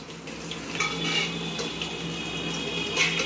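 Garlic and four red chillies frying in hot oil in a pan, a steady close sizzle with light metallic clinks of a utensil against the pan.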